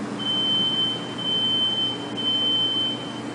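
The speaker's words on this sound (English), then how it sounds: "a smoke detector could still be heard going off inside the burned-out apartment complex" A smoke detector sounding inside a burned-out apartment complex, a thin high-pitched electronic tone repeating in long beeps with short gaps, fairly faint over a low background hum, no voices.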